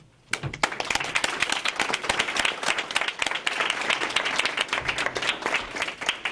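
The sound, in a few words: audience applauding candidates at a forum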